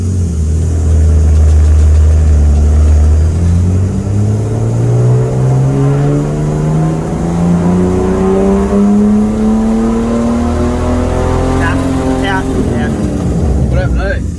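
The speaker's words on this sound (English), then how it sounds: "I reckon the turbo made weird noises. You can hear it clicking." A Barra-engined Nissan Skyline revs hard on a dyno, its loud engine note climbing steadily in pitch for over ten seconds before dropping off, with a faint clicking from a failing turbo and voices underneath.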